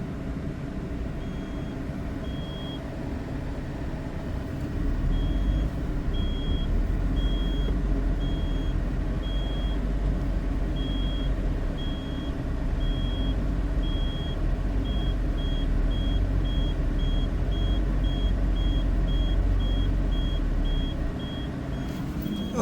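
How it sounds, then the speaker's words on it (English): A Fiat 500's reversing camera buzzer sounds in evenly spaced high pulses that quicken toward the end, over a steady idling engine rumble. "This is the reversing camera with a buzzer to help you reverse."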